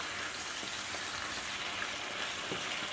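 Steady, fairly faint hiss of a pressure cooker cooking meat, a continuous broadband sizzle-like steam sound with a few soft knocks underneath, no voices.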